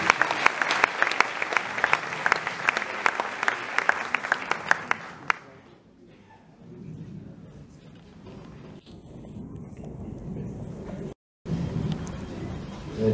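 An audience at a Seyhan Municipality concert in Adana breaks into loud, sharp applause for about five seconds. The clapping then drops to a low crowd murmur with faint handclaps.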